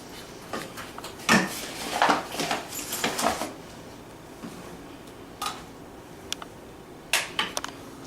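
Dishes set down in a kitchen sink, a handful of scattered clinks and knocks of crockery and utensils, close and moderately loud, with quiet pauses between.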